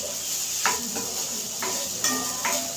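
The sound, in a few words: sabudana khichdi being stir-fried in a pan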